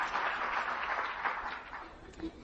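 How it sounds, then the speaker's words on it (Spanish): Applause from an audience at a convention rises as a soft, diffuse patter of clapping, fairly quiet and distant, with a faint voice mixed in underneath. "Un aplauso para nuestro offline"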